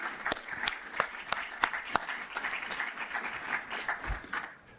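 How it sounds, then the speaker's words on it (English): An audience at an election symposium gives a round of applause, scattered individual claps rising into a moderate, uneven patter that thins near the end. "Can we give her a round of applause?"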